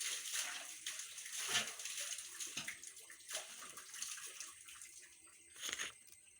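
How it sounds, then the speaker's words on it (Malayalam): Water sloshes and splashes in irregular bursts as a bucket is dipped into a well and drawn up, with soft knocks and gurgles between. "ഇതാ ഞാൻ നിന്ന് വെള്ളം കോരുന്ന കണ്ടല്ലേ ഇങ്ങനെയാണ് വെള്ളം കോരുന്നത്"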